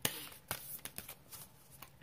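A deck of oracle cards being shuffled by hand, soft riffling slaps and papery flicks in an uneven rhythm, close but quiet, with no talking.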